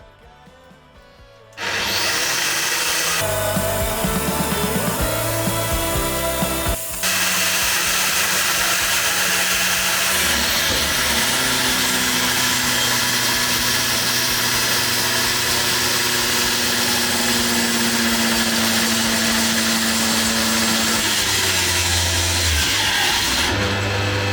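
A Milwaukee AGV 10-125 or AGV 13-125 XSPDE angle grinder spins up loud and close, its cutting disc deliberately pinched to trip the anti-kickback function; the whine shifts and strains mid-run, then carries on steadily as a harsh, continuous roar.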